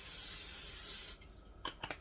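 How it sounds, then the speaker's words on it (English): Cooking spray hisses from a can onto the bottom of a pan in one steady burst of about a second, followed by a few light clinks and taps. "I'm going to spray just a little bit of spray on the bottom of my pan."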